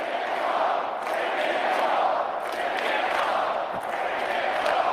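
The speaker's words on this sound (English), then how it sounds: "Pierre Poilievre keeps drawing huge crowds at campaign rallies." A dense crowd murmurs and cheers steadily at a Pierre Poilievre political campaign rally, a continuous roar of many voices with no single voice standing out.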